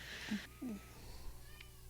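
A cat meows twice, short and fairly close, over a quiet background with faint ambient noise.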